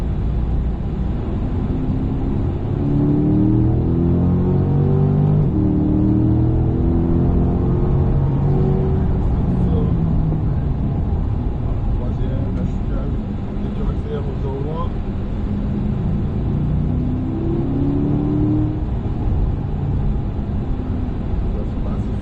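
A car accelerates around a driving track, its engine note climbing and rising in pitch in repeated sweeps from close inside the cabin, with an instructor's voice talking over it.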